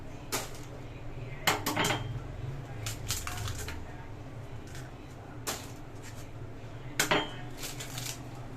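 Three eggs are cracked into a mixing bowl for chocolate brownie batter, giving several sharp clinks and taps spaced apart against a quiet kitchen background.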